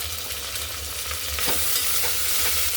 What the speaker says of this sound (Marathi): टोमॅटो 1 मिनिटभर परतून घेऊ.